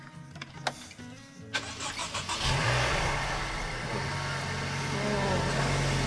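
A Range Rover Evoque engine cranks and catches after a few clicks and thumps inside the cabin, then settles into a steady, fairly loud idle hum that holds to the end.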